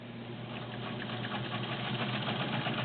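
A vintage all-metal JCPenney Penncrest sewing machine with a 1-amp motor runs steadily, giving a smooth, even mechanical whir that stays constant and fairly quiet throughout, with no talking.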